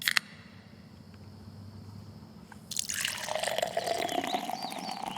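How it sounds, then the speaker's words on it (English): Hard cider from an orchard is poured into a glass: a few faint drips, then a sudden bright splashing stream that settles into a steady, rising gurgle as the glass fills. "our hard cider is so good, it pours itself."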